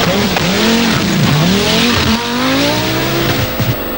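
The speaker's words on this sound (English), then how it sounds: "is using all the revs at her disposal and the rev limiter" An Audi Quattro S1 rally car with a five-cylinder 20-valve engine, driven hard at a rally stage, revs high against its limiter. The loud engine rises and falls continuously through gear changes for several seconds, and no one speaks.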